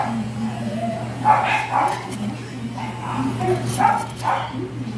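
Several dogs bark and yip repeatedly in an uneven rhythm, moderately close, over a constant low hum, outdoors during succulent planting in Benguet.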